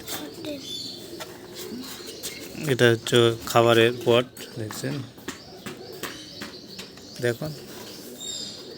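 Pet doves in a cage coo softly in a home setting while a person talks over them almost the whole time. The calls are low and intermittent and are partly buried under the talk.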